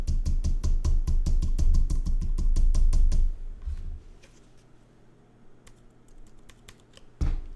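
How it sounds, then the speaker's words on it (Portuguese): Computer keyboard keys clatter in a rapid run of close, crisp presses for about three seconds, then quiet with a few scattered single key taps and one final louder press. "você aperta Delete no seu teclado"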